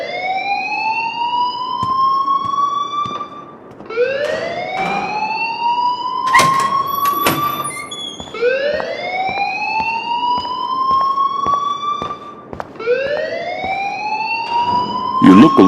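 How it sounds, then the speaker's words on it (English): A fire alarm rings in the video game Life Is Strange, a loud rising electronic whoop repeating about every four seconds, with brief clicks and faint voices in between. "please turn off that alarm since that's your job"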